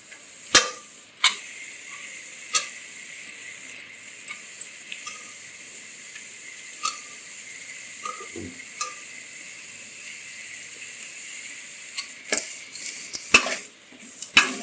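Coconut sizzles softly in a pan with occasional scraping and clinking of a spoon stirring, quiet and close, no voices.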